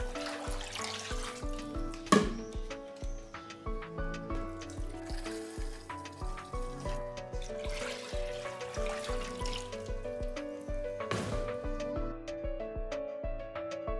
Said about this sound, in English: Add half a liter of water and 1 liter of milk.